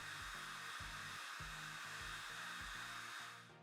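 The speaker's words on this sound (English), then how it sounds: "I once again use my hair dryer to speed up that dry time." A hair dryer blows steadily, drying grout on wargaming terrain, a continuous whirring hiss that fades slightly at the end, with rhythmic low tones underneath.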